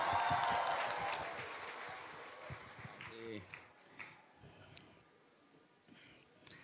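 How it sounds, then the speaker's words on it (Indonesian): Crowd applause at a public lecture welcoming Anies Baswedan, a dense wash of clapping that swells early then thins out to scattered claps, fairly distant, with voices talking over the fading end. "Mari kita sambut dengan meriah Bapak Anies Baswedan."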